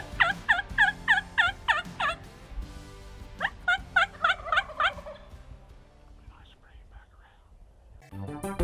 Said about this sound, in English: this bird is standing 25 yards away in the wide open and watched it all and still even gobbled back to the call